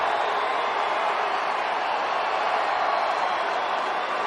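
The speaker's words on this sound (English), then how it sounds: "Now the crowd on the third base side welcoming Manny back to his spot." A steady roar from a baseball stadium crowd on the third base side, welcoming Padres player Manny Machado back to his position during a Dodgers game, sustained and broad throughout with no distinct voices.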